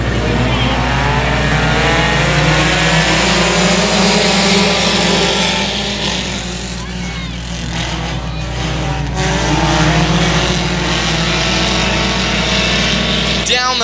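Race cars roar around the dirt oval at Boyd Raceway during a heat race, with engines revving and fading as the pack passes, loud and continuous, while an announcer talks over the action.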